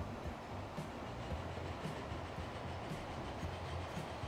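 A train in the Transport Fever 2 video game rolls steadily along its tracks with a low, continuous rumble and soft rhythmic clacking, no voices over it.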